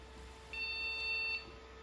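An old retro PC beeps once on power-up, a steady high tone lasting under a second, moderately loud against a quiet background hum.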